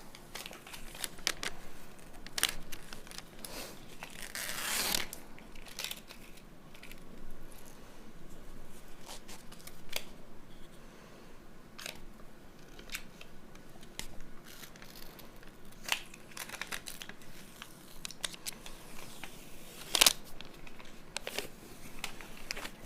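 Protective film peeled off clear acrylic ornaments, heard as close, quiet crinkling and scratchy tearing with sharp crackles in short bursts, and a louder rip partway through.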